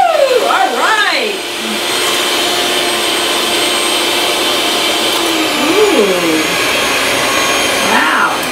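A Cusinaid 5-speed hand mixer runs on its turbo setting with a loud, steady high-pitched electric whine. Brief excited vocal exclamations sweep over the motor at the start and near the end.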